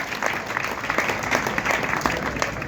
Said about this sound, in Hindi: एक बार ताली बजाओगे सारे